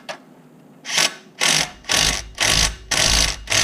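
Impact wrench working on a 2014 VW Tiguan R-Line during a rear main seal job, firing in five loud, close bursts of roughly half a second each, separated by short pauses, with a faint brief click at the start and no talking.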